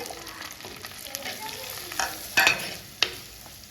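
An onion and tomato masala with chili powder for a fish curry fries in a pan, a soft steady sizzle with close spoon scrapes and a few sharp clanks as it is stirred.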